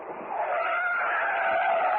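A police car skids to a stop with a sustained tire screech, loud and close, rising quickly and holding for about two seconds as a radio drama sound effect.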